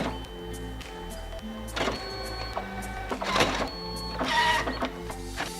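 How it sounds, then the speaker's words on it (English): A DNP RX1-HS photo printer runs steadily with motor whirring and mechanical clunks as it cuts the paper, the sound close and continuous with no talking. "the printer will cut the first 4 bits of the paper"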